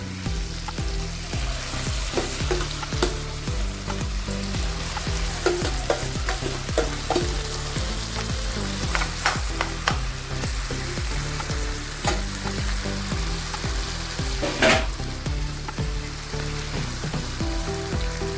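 Mashed brinjal for bharit fries in a pan and is stirred. A steady, close sizzle runs throughout, with scraping and stirring clicks scattered across it and no talking.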